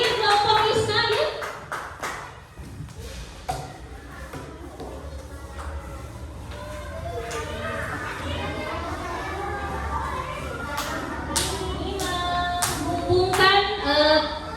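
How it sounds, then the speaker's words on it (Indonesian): A class of young students clapping for a group of classmates, a burst of scattered hand claps over lively children's chatter and talk in a classroom. "beri tepuk tangan buat kelompok Algifa. Mana tepuk tangannya nih?"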